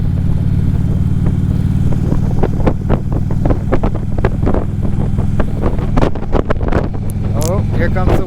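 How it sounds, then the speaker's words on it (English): Wind buffets a microphone during a motorcycle ride, producing a loud, steady low roar with an engine drone underneath and sharp gusty crackles toward the end, while a rider's voice talks over it. "Oh, here comes the wind."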